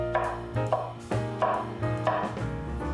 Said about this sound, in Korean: 깨끗이 씻은 양송이 버섯도 3mm 두께로 채 썰어주세요.